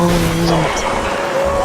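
Vehicle driving in the video game Borderlands 2, a continuous engine drone with tonal hum and faint tire noise, steady and fairly loud throughout.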